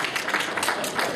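A brief burst of dense, steady applause from an audience at a veterans' charity event, many hands clapping together in a fairly loud, even wash.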